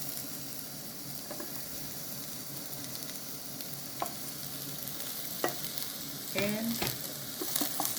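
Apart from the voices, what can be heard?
onions frying in a pan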